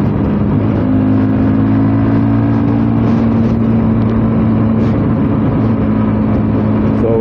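A 200cc motorcycle cruising at high speed on the road, its engine holding a steady, loud drone with sustained harmonic tones and rushing wind noise throughout, no talking.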